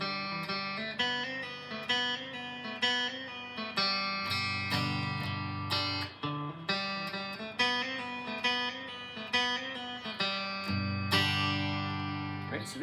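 Short guitar lick with a 0-to-2 hammer-on and a 2-0-2 figure, played twice in a row with clear plucked attacks and ringing notes, close and steady, without talk.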